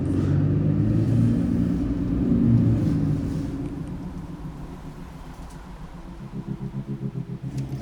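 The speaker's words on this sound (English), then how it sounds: "I think I'm just going to drive around for a little bit and see what I find." A car driving around foggy London streets, a steady low in-cabin engine and road rumble that fades slightly, then pulses rhythmically near the end, with no talking.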